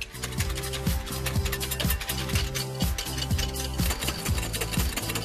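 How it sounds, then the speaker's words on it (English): A whisk beats egg whites in a bowl with quick, steady rhythmic strokes, each scrape repeating about twice a second over a constant low hum in the background. "Whisk away until nice and fluffy."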